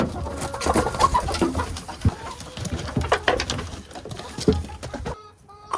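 Backyard chickens, including a new group and smaller original hens, cluck and squabble in a run as feed is thrown, with scattered close calls and scratchy rustling throughout, ending abruptly.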